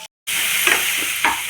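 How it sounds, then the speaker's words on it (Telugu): Tomato and dried prawn curry being stirred in a hot pan: a steady frying sizzle with a few soft scraping strokes of the spoon, close and alone. "Mixing mixing mixing."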